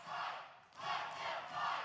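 Wrestling crowd at an OVW match chanting in unison after a time-limit draw, a loud sustained roar of many voices rising and falling in two swells.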